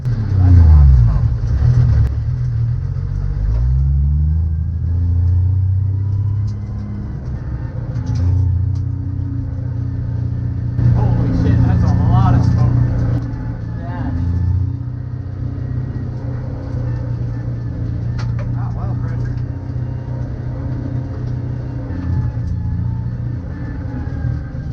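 A race car engine rumbles low and rough at idle, sagging and dipping as if close to stalling, with occasional rises in revs over several seconds.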